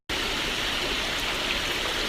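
A waterfall pours with a dense, steady broadband rush, close and loud from start to finish with no voices over it.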